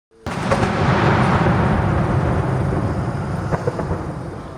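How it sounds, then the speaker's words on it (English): Torrential rain pours loudly and continuously on the Ukraine frontline near Bakhmut, a dense rushing roar that starts abruptly, with artillery and rocket fire booming low in the distance beneath it. "To a background of artillery and rocket fire while sheltering from the torrential rain"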